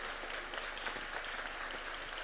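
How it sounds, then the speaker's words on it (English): Audience at the University of Nairobi applauding as Presidents Ruto and Macron come in, a steady, fairly distant wash of many hands clapping, faint and continuous. "Why don't we give them a clap as they come in,"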